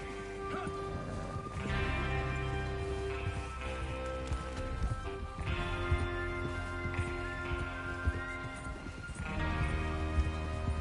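Horses gallop in Red Dead Redemption 2 with a steady, driving hoofbeat under a thick layer of music, the rhythm swelling and easing in waves without pause.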